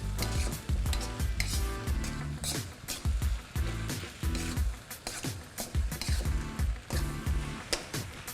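Food sizzling and being stirred in a pan for about a minute, steady frying hiss broken by repeated scraping strokes of a utensil against the pan in an uneven rhythm, close and fairly loud.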